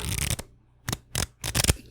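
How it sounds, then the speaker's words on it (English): A deck of playing cards gets shuffled in several quick riffling bursts, close and crisp, separated by short pauses. "give it a good shuffle here"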